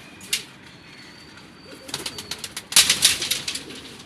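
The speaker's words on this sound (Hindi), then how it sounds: "ये है एक और कबूतरी, ये भी वही ब्रीड है गोल्डन कबूतर।" Golden pigeons kept by a fancier give soft, close cooing calls with fluttering wing flaps, sparse at first and then busier over the last two seconds.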